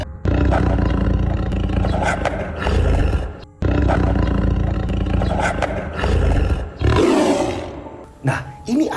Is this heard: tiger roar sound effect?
yes